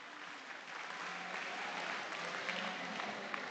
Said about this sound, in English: Let's give them a big round of applause for getting it back out here in the finals.